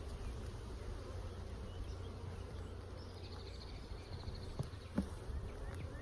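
Honeybees drone in a continuous, even buzz around an open beehive being worked frame by frame, close and fairly quiet, with a few faint clicks and knocks near the end.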